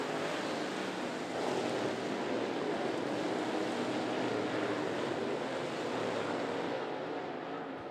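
Late model race cars racing at 411 Motor Speedway, a steady, loud wash of engine roar that fills the whole clip without letting up, with no voices over it.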